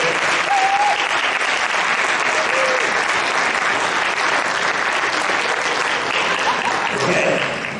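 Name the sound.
theatre audience applause for acting troupe and musicians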